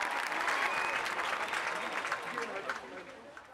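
Applause rises from a crowd at a street protest, a dense, steady wash of clapping that fades slightly toward the end, with some voices mixed in.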